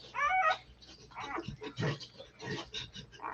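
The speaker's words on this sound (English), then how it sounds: "Look at this cat, man." A cat yowls and growls in short, agitated bursts, close and fairly quiet, with pauses between cries.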